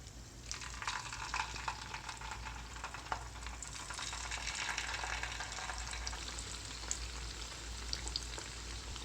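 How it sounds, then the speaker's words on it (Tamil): Rice and lentil kunukku batter deep frying in hot oil, a steady, dense crackling sizzle that runs throughout at moderate loudness with no voices. "இது நல்லா 2 பக்கமும் பொன்னிறமாக வர வரைக்கும் ஃப்ரை பண்ணணும்"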